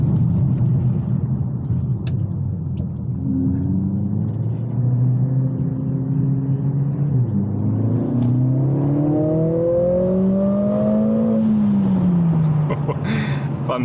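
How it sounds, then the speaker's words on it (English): A Mercedes CLA45s AMG in Individual drive mode revs and blips through downshifts near a roundabout, its engine note climbing and dropping in repeated swells over a steady cabin rumble. "listen to those lovely downshifts."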